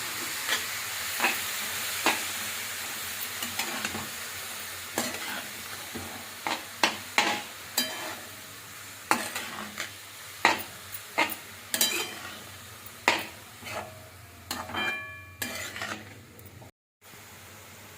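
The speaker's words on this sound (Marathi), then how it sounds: "हा सुद्धा छान तुपामध्ये आपण परतवून घेणार आहोत." Grated carrot sizzles in ghee for carrot halwa while a spoon stirs it repeatedly, making quick, sharp scraping strokes over a continuous frying hiss that cuts out briefly near the end, with no voices.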